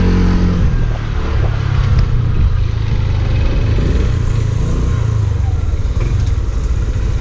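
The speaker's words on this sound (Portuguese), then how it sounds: "Pode mandar a brasa na moto aí." A motorcycle engine rides loud and close throughout, with steady low rumble and some revving as it speeds along a street, a brief voice fragment faintly under the engine.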